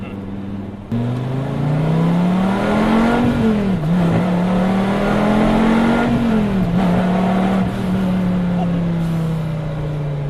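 A Dodge Viper GTS (fifth generation) engine roars steadily close by, its pitch rising and dipping as the throttle changes, loud and continuous with no pauses; too much throttle in first gear spins the tires.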